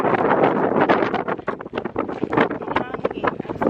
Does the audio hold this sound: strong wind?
yes